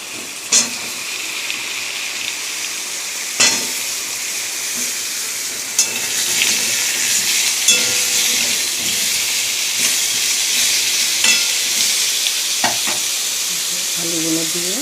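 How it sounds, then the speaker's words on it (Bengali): Potatoes going into hot oil tempered with chilli and cumin, a loud close sizzle and hiss that swells after they drop in, with intermittent stirring clatter and utensil knocks. "আর একটু জিরে দিয়ে দিলাম। এবার দিয়ে দেবো আলু দিয়ে।"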